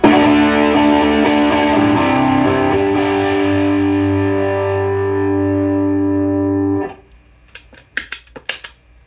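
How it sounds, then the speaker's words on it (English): A Centavo Klon-style overdrive guitar pedal carries a loud, sustained distorted guitar chord that rings for several seconds and then cuts off, followed by a few quick picked string scrapes. "So the Centavo here sounds like this."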